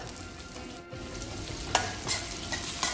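A spoon stirring turmeric and lemon water in a cooking pan, with soft scraping strokes and a faint sizzle underneath, close and moderately quiet.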